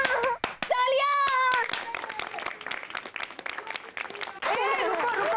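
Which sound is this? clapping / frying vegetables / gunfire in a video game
clapping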